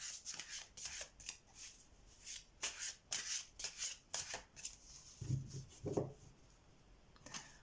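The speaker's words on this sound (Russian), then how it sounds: "Перемешаем и достанем карту совет" Tarot cards are shuffled by hand close up, giving a series of quick papery riffles and slaps in irregular bursts, with a couple of soft thuds near the end and no talking.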